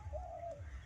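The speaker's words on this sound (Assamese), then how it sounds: "একচুৱেলি কপৌ চৰাই এটা মাতি আছে" Dove cooing outdoors in a foggy village morning, a single faint soft low coo heard from a distance.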